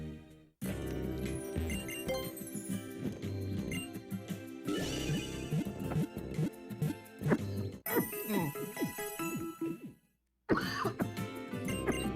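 A person coughs repeatedly in close, harsh bursts with throat clearing, mixed with game music and chiming jingles playing in the background.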